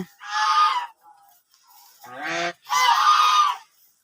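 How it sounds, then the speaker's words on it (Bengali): Brooding ducks sitting on eggs give three loud, close, nasal honking calls, separated by short pauses. "আমি হাঁস দিয়ে ফুটিয়ে থাকি আমার সবগুলো হাসি যে ডিম নিয়ে উমে বসে আছে"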